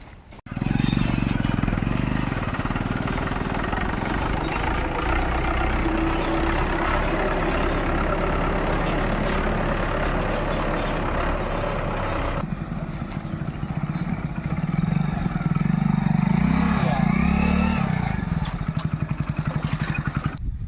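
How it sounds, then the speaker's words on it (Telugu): Engine of a tractor running steadily on the Utla ghat road in Telangana, a loud continuous low rumble close by throughout, without speech. "సో సరే రాన్న ట్రాక్టర్"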